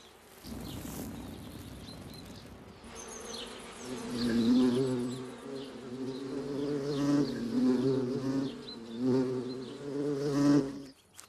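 Honey bees buzzing, a dense droning hum that swells and fades in waves, close and fairly loud, with no voices.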